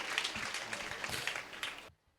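Crowd applause at a Karunagiri Catholic pilgrimage festival in Khammam, a dense wash of clapping for about two seconds that cuts off abruptly.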